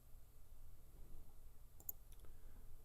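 A few quiet computer mouse clicks while saving a form in insurance claims software, two or three faint ticks close together over a low steady hum, no voices.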